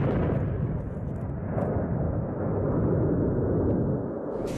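Airstrike bombs hitting a funeral gathering, two jets dropping four bombs: a loud, continuous low rumbling roar of explosion and debris that holds steady for several seconds before easing slightly.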